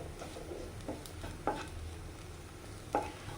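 Spices and masala being stirred in a hot pan for a fish dish, a soft steady sizzle with quiet scraping stirs and a couple of distinct spoon taps against the pan, close and fairly faint.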